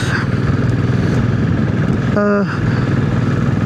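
Royal Enfield Classic 500 motorcycle on a road test ride, a steady, loud, continuous engine drone with wind rush throughout, a brief rising tonal whine midway.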